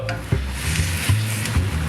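A ham and cheese sandwich fries in a pan, a steady close sizzle broken by a few soft scraping knocks as it is moved around.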